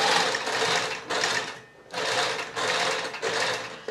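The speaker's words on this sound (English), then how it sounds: "It's almost like sink stitching the needle in between the fabric." A sewing machine stitches box pleats on a skirt's fabric, its motor running in steady bursts with short pauses between runs, close and fairly loud with no talk.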